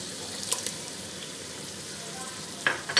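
Liver (kaleji) fries in a pan over a high flame, a soft steady sizzle heard close, with a few brief clinks and stirring sounds near the end.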